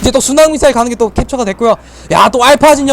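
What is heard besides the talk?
None of the usual background noises is heard.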